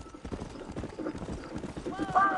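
Horse hooves clip-clop in a steady, soft rhythm in the video game Red Dead Redemption, with a brief whinny near the end and low voices in the background.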